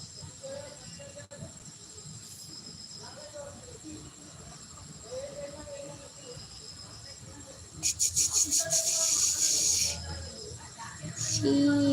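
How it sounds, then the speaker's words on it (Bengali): Crickets trill in the rainy season, a steady pulsing chirp outdoors that grows louder and denser toward the end, with a few bird calls and some human voice sounds nearby. "উফ বাবা কি আওয়াজ করলো ঝিঝি পোকা একদম বর্ষা হয়েছে"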